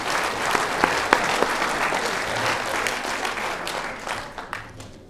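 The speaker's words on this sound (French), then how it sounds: "Oh, vous pouvez les applaudir." An audience at a mayor's New Year wishes ceremony applauds, sustained dense clapping from many hands with a few sharper claps standing out, tapering off toward the end.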